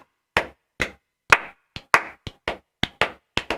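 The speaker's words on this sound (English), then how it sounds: "Golf clap." Slow, scattered hand claps of a mock golf clap, about ten sharp, separate claps spaced irregularly over a few seconds, close and dry, with no talking.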